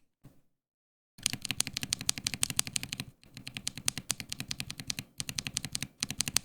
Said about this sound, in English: Alright, here's the sound of a Neapolitan.